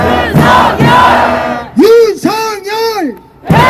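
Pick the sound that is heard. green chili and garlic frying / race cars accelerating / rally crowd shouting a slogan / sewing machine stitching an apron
rally crowd shouting a slogan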